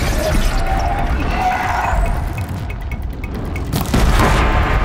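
A machine blowing up in the video game Horizon Zero Dawn: a loud, sustained rumbling boom with crackling debris and metallic clatter, followed by a second burst near the end, under brief voice sounds.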